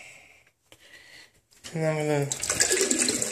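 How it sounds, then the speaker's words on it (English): Water poured into the toner waste container of a Samsung CLX-3175FNK color laser printer, a rising hollow filling gurgle that swells loud over the last second and a half, following a brief spoken phrase. "I'm going to fill it up with water like this."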